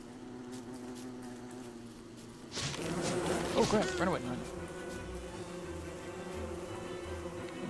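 Swarming bees in the video game Don't Starve buzz in a steady, close drone that swells partway through, while a player talks excitedly over it.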